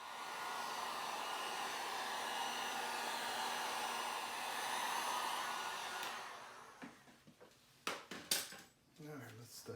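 A heat gun blows a steady, loud airy roar while softening butyl sealant on a car headlight housing, running for about six seconds before cutting off into clattering handling noises and a voice speaking.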